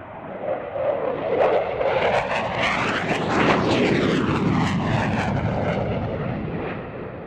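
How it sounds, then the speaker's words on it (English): French omni-role fighter jet flying an air show display, a loud roaring pass that swells and sweeps overhead with a shifting whine, then slowly fades while still rumbling. "What the French refer to as an omni-role fighter, air-to-air, air-to-ground, reconnaissance, all within its sphere of capabilities, and quite brilliantly shown off today by Capitaine Jean-Guillaume Martinez"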